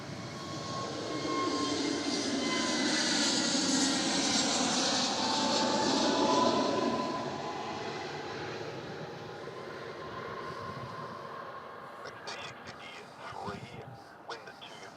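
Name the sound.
aircraft at Melbourne Airport waiting to line up on runway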